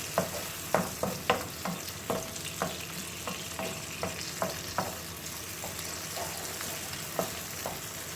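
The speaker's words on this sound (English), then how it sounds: "Give it a good stir, keep stirring it so they're fully mush and the onion is well fried." Tomatoes and onions frying for a mixed vegetable curry, stirred with a utensil, steady sizzle broken by regular sharp knocks and scrapes against the pan, close and alone without voices.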